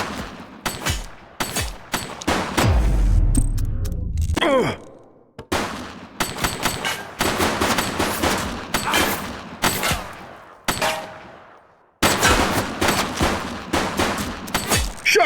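Repeated gunfire bursts and single shots ring out in the Precinct video game during a police shootout, loud and close, coming in rapid volleys with brief pauses between them.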